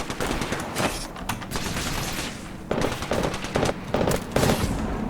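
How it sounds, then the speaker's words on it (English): Gunfire in the video game Apex Legends: sustained automatic bursts, loud and close, arriving in rapid rattling strings broken by short gaps. "I am taking fire, friends. Firing."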